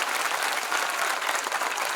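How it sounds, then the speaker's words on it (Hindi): A crowd at a Sardar Patel birth anniversary celebration bursts into hearty applause. Dense, continuous clapping from many people holds at a strong, even level without any voices over it. "एक बार जोरदार तालियां बजा दीजिए दोस्तों।"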